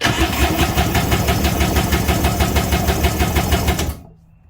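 A Kawasaki JS440 jet ski's two-stroke engine cranks during a cylinder compression test with a rapid, rhythmic chugging for about four seconds, then cuts off abruptly into near silence.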